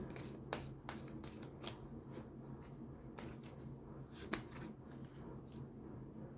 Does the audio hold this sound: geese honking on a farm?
no